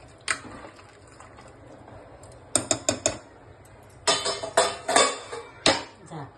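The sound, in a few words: pressure cooker lid being closed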